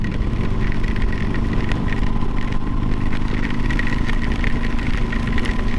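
A Harley-Davidson motorcycle rolls along slowly in poor visibility on the way to Deals Gap, its engine a steady, close, low rumble throughout with no talk.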